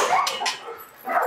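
Dogs at a park, including a Giant Schnauzer, give short close yips and whimpering barks in a quick burst, two rapid cries followed by a pause and another whine.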